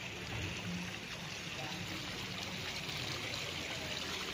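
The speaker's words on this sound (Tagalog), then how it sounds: "Galing yan sa bukal ang tubig." Spring water flowing into a swimming pool at a resort in Liliw, Laguna, a steady, soft, continuous trickling and splashing wash, fairly faint and unbroken, with no talk.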